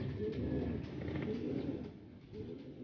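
Several pigeons coo softly and continuously inside a loft, a low murmuring rumble with overlapping calls at steady moderate level, no talk.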